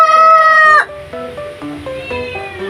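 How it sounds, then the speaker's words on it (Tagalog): A Rhode Island Red crossbreed chicken, part native, gives a loud, drawn-out call, followed by a run of softer, rhythmic clucks close by. "ang kumakakak na po yan"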